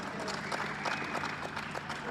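Crowd at a pickleball medal ceremony for 50+ men's doubles giving sustained applause, dense steady clapping filling the space with scattered voices mixed in.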